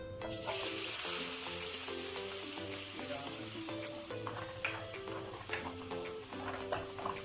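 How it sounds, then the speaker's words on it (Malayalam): Crushed shallots dropped into hot oil burst into a strong sizzle that settles into a steady frying hiss, with a background melody playing throughout and occasional small clinks. "അതിലേക്ക് ചതച്ച് വെച്ച ചെറിയ ഉള്ളി ഇടാം"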